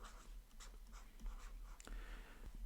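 Pen or marker writing by hand on paper or a board during an algebra factoring lesson, with a steady run of quiet scratching strokes and short pauses, fairly close and alone.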